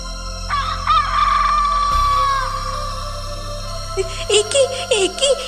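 A rooster crows loudly in a long drawn-out call, followed by a series of sharp, agitated squawks and clucks close by.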